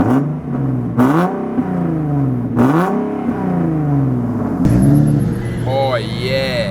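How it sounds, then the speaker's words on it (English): A Nissan 370Z engine revs repeatedly, rising and falling in loud close blips, then settles into a steady idle with some chiming and a higher whine, while a voice talks over it. "I'm just gonna start this car up real quick"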